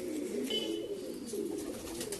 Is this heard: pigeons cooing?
yes